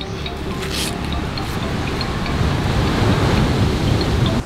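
Indian Ocean surf rolls and hisses steadily along a Sri Lankan shore near Tangalle, a broad, loud wash that swells gradually, with faint wind-like noise mixed in.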